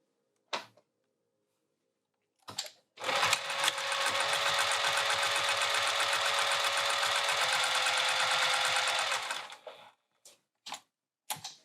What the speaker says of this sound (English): now we're gonna top stitch along the fold and then we'll baste